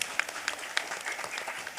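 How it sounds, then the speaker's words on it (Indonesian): Over a hundred Quran school students and other attendees at an afternoon Javanese Islamic sermon gathering clap together in a steady, fairly soft burst of applause with a few sharper claps standing out and no speech. "santrinya 100 lebih orang tepuk tangan sik."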